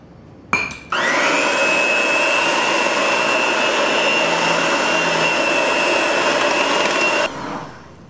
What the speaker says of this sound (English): I'm going to add a little bit at a time so it doesn't bog down on the mixer.